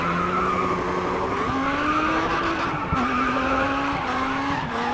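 A car drifts in the racing game GRID Autosport, its engine droning as the tires squeal and skid continuously. The engine pitch shifts with each gear change, loud and close, with no talk.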